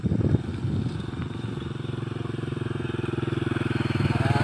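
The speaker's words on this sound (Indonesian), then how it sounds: "Wah, suara motor." A motorcycle engine runs close by at night near a village bridge, a steady pulsing putter that holds loud and even throughout with no other sound over it.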